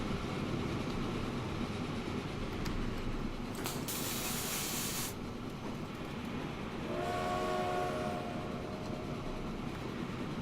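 A steel freight train rolls along in Transport Fever, a steady rumbling clatter throughout, with a brief loud hiss burst and a short tonal horn-like sound later.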